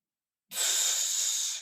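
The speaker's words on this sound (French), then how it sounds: "on vient respirer normalement" Normal abdominal breath, a single airy exhalation-like hiss that starts abruptly after half a second of silence and holds steadily for about a second, close and fairly soft.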